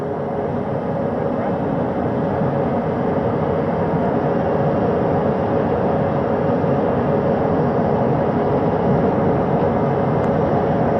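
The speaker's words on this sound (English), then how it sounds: "As that third helicopter touches down." A helicopter touches down on a ship's flight deck during an Artemis astronaut recovery, heard as a steady, loud, broad roar with a faint humming tone that stays constant throughout.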